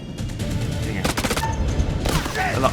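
Bursts of automatic gunfire crackle through the war-horror video game House of Ashes, with rapid volleys around the middle and end of the stretch over a dense, noisy game soundscape.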